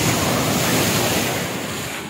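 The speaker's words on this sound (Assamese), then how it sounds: "এতিয়া এখন সাগৰ হৈছে আটলান্টিক মহাসাগৰ" Steady, loud surf from Atlantic Ocean waves washes over the whole stretch in a continuous broadband roar, with some wind buffeting the microphone and a slight easing toward the end.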